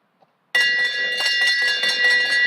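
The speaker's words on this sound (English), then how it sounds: "And that's the bell." A bell rings out at the Burnaby Velodrome during a track cycling race, a sustained bright metallic clang that starts abruptly and keeps ringing steadily for about two seconds.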